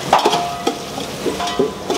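Four dried red chillies and garlic fry in tempering oil, making a close crackling sizzle with repeated stirring knocks against the pan.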